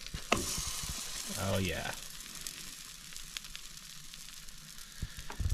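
Food for a second batch sizzles and fries in a Camp Chef outdoor oven, with a steady crackle running through the whole stretch and a brief spoken remark near the start.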